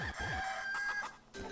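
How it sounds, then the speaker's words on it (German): A golden chicken in Zelda: The Minish Cap gives short, chirpy synthesized clucks and a crow-like call in quick succession, close and clear, with no talk. "Oh, da ist ein goldenes Huhn in der Tür."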